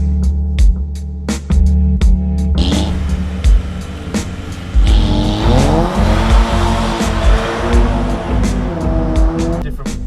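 A remapped 2000s VW Golf GTI Mk5 hatchback with an R-tech remap roars under hard acceleration, its loud exhaust note rising through the gears with sharp shift cracks and pops, close and dominant.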